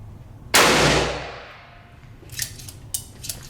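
A single loud gunshot rings out from a Taylor's & Co 1873 Cattleman single-action revolver chambered in 9mm, with a sharp crack decaying into a long outdoor echo, followed by a few faint clicks and handling noises.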